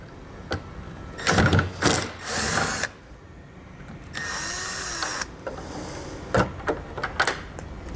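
A power driver backs out T15 fasteners during installation of a towed-vehicle wiring kit on a 2022 vehicle. Short whirring bursts of the driver alternate with clicks and handling clatter, with one longer steady run.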